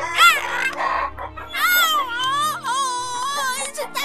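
A cartoon rooster in a 3D animated Vietnamese fairy tale, with loud strained crowing and squawking calls in two bursts, close and prominent over faint background music.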